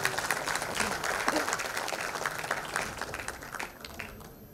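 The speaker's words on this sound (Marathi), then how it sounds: "जोरदार टाळ्या." An audience claps at a Mumbai ceremony marking 100 years of Veer Savarkar. The applause is dense and steady, then thins and fades toward the end.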